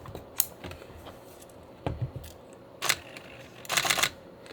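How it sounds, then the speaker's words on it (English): The film back of a Nikon F5 camera is being closed, giving a few faint mechanical clicks and snaps with quiet handling noise between them. "Now we're going to close the film back."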